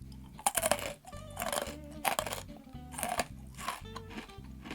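Someone bites into a hard, crispy Samlip yakgwa, a fried Korean honey cookie, giving loud close crunches in a rhythm of about four bites and chews, with faint background tones underneath.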